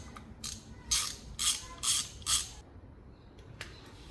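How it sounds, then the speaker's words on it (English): A ratchet loosens the coolant drain bolt on a Honda Africa Twin CRF1100 motorcycle, four quick rasping clicking strokes in an even rhythm, then a couple of lighter clicks, close. "Before removing the reserve tank, I'm going to remove the draining bolt, which is this one."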